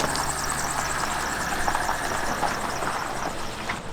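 A wrecked car's engine runs steadily at idle after starting, a continuous low rumble with a faint hum, close and moderately loud, with no talk over it.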